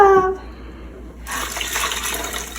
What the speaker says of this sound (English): Now we just need to add the water.